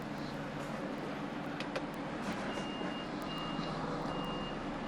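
A reversing lorry backs its trailer into a tight spot, its reversing alarm beeping faintly and evenly over a loud, steady diesel idle and cab rumble.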